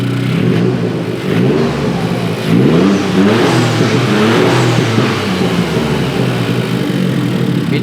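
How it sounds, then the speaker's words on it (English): Straight-piped three-cylinder turbo engine in an all-wheel-drive Toyota GR86, revving loud and close with rising and falling pitch sweeps, steady rumble throughout. "It really does sound like a rally car."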